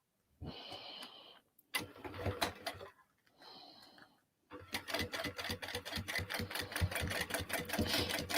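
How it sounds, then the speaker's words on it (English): A sewing machine stitches a seam on a Vicky May 3 bag, running in several bursts with short pauses, then one long steady rattling run that carries on to the end. "And then this seam gets sewn together."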